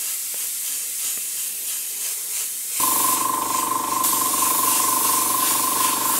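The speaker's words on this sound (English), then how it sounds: "So just light dustings of paint" Spray paint dusted through a Dungeon Creator stencil: quiet room tone, then a sudden close, loud steady hiss of the aerosol can spraying for the last few seconds.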